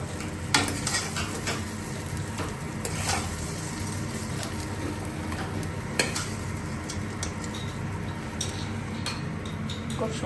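Fried potatoes being lifted out of a kadai, with repeated metal spoon scrapes and clinks against the pan over a soft, steady sizzle.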